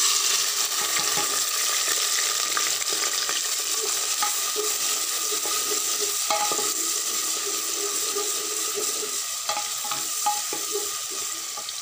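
Onion and garlic frying in a cumin tempering for green moong dal give a continuous bright sizzle, with spoon stirring and scraping clicks scattered throughout, close and steady.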